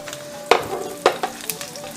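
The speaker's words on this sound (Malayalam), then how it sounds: "കാഷ്യൂനട്ട് ചെറുതായിട്ടൊന്ന് ഫ്രൈ ആയി വരുമ്പോൾ ഇതിലേക്ക് റൈസിൻസ് ഉണക്ക മുന്തിരിയാണേ അങ്ങോട്ട് കൊടുക്കുക" Cashew nuts, raisins and coconut pieces frying in a pan, a soft sizzle broken by a few sharp stirring scrapes and clicks, close and without talk.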